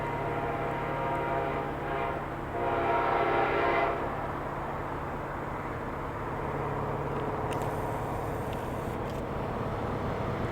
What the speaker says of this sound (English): here comes the train we just got off of